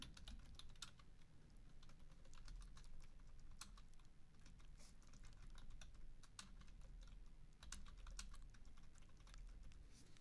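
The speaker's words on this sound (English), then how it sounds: "let me go ahead and just type this" A computer keyboard is typed on in quick, uneven bursts of soft clicking keystrokes, close and quiet, with no voices.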